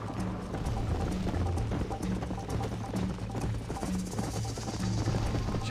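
Horse hooves galloping in Red Dead Redemption during a race, a steady rhythmic clip-clop of hoofbeats running throughout at moderate volume, with no speech over it.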